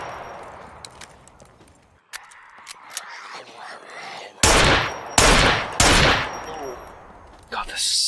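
Weapon fire at a naval base in the survival game SCUM: quiet clicks and small handling noises give way to several loud, close shots in quick succession, then one more burst near the end, with soft voices underneath.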